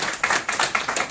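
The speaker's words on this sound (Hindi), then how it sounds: "बात पहुंच जाए तो ताली बजा दीजिए।" Audience clapping at an anniversary gathering of a literary organisation, heard as a short burst of rhythmic, evenly spaced hand claps, close and fairly loud with no talk over it.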